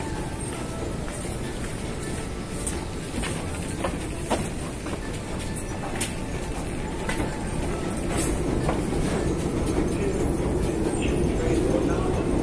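A metro train at a busy metro station, its steady rumble and rolling rail noise filling the platform at close range, swelling slightly near the end, with faint voices in the background.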